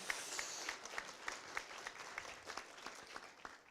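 Audience applause at a citizens' assembly meeting, a moderate sustained patter of many hands clapping from across the room, fairly distant, with a louder bump at the very end.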